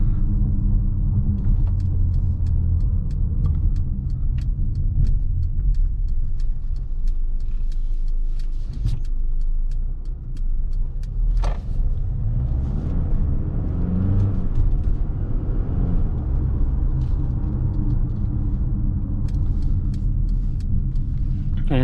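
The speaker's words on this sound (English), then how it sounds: "The changes of the gears are really smooth, so of course the automatic transmission." A car on the road with an automatic transmission shifting gears smoothly, giving a steady, close interior rumble of engine and road noise that holds throughout with only a slight dip midway.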